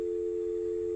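A steady electronic telephone tone sounds from a phone in a video game, one unbroken note held for the whole second, fairly loud and alone with no voices.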